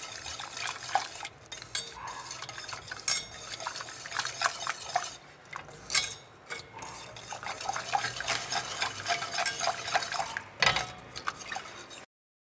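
A spoon scrapes and clinks around a pot of salted caramel syrup as it is stirred steadily, with soft liquid sloshing and irregular metallic taps, close and alone.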